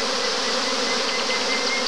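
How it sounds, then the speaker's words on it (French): Masses of honeybees stream from a hive as a swarm departs, producing a steady, loud, close buzzing hum from countless wings with no talking. "Ah, comme ça crache des abeilles."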